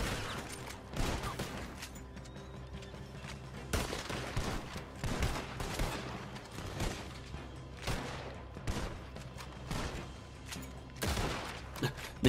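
Scattered gunfire in a Red Dead Redemption 2 shootout, with repeated sharp shots and short volleys spread across the clip at moderate distance, mixed with a low rumbling background.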